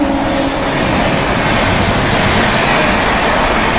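Train at a busy railway station during the Maha Kumbh Mela in Prayagraj, a loud, continuous broadband rumble and roar close by, with no talk.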